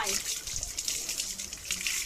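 Water gushes steadily over a dog being bathed with shampoo during a grooming lesson, a close continuous splashing pour that lasts throughout while a voice talks over it.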